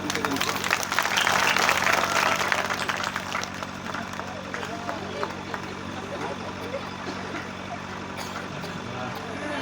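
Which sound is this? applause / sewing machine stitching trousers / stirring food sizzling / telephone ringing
applause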